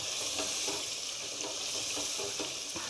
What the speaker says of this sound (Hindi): बहुत अच्छे से इसकी बुनाई करनी है टमाटरों की और मिसालों की।